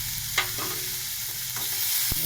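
Food frying in a pan with chopped coriander and chilli, stirred with a utensil: steady sizzle under several distinct scraping strokes, close up with no talk.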